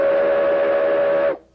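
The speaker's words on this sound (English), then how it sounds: "Six Flags Railroad with a genuine antique steam engine" A genuine antique steam engine on the Six Flags Railroad at an amusement park sounds one loud, steady steam whistle blast that cuts off abruptly.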